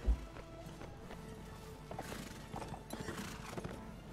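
Steady clip-clop of horse hooves trotting in a video game, moderately loud, with a faint whinny near the start and a busy game-like background.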